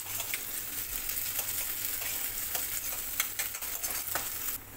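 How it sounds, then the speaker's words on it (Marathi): Ginger garlic paste sautéing in a pan for street-style anda ghotala, a steady loud sizzle with repeated stirring scrapes close by, no voices. "आता ही पेस्ट आपल्याला त्याचा कच्चा वास जाईपर्यंत परतून घ्यायची आहे"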